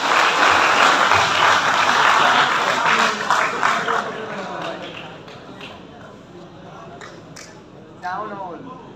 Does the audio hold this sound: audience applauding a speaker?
yes